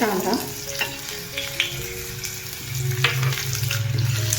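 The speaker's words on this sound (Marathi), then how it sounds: "कांदा पण चांगला आपण परतून घेऊ।" Chopped onion sizzles and fries steadily in a pan with browned garlic, close and continuous, with occasional stirring scrapes and pops.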